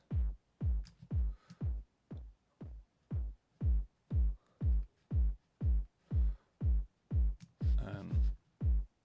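A repeating kick drum thumps in a steady beat, each deep hit trailing into a gritty, buzzing distorted decay, loud and up front.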